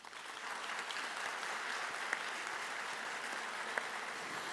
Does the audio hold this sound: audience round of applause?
yes